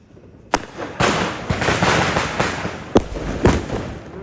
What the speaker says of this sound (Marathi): सुतळी बॉम्ब.